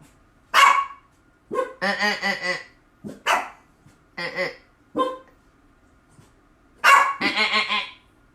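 Dogs bark loudly and close by in irregular bursts, some single sharp barks and some quick strings of yips and barks.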